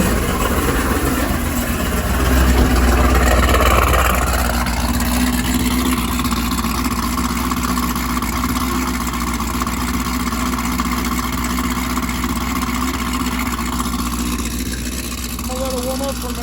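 Street car engine idling as it warms up, a steady mid-pitched rumble that eases slightly after a brief rise, loud and close, with no talking.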